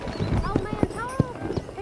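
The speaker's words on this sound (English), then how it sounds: "I picked out a fine horse for you." A horse in the western video game Red Dead Redemption whinnies and its hooves clop in a short uneven series, heard close and clear over low background sound, with a voice speaking at the same time.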